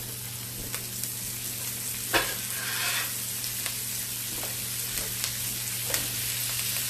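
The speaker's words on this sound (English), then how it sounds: "we're going to start frying this cabbage up some" Green cabbage frying in a skillet on a stovetop eye, a steady low sizzle and crackle with occasional pops and stirring scrapes, close and moderately quiet.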